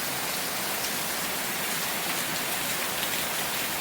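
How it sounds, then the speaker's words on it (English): Steady, dense rain falling outdoors as the front of a storm arrives, a constant close hiss of drops on surfaces with no break and no voices. "This is just the rain front."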